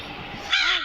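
A crow in the horror video game Granny gives a single loud, harsh caw, close and clear, breaking out after a moment of quieter background tone.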